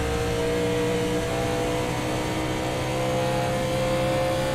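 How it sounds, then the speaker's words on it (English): A NASCAR Cup car in the iRacing simulator at Nashville Superspeedway drones with a steady, loud engine note that holds evenly throughout, with no talk over it. "Man, I love the way this car sounds though"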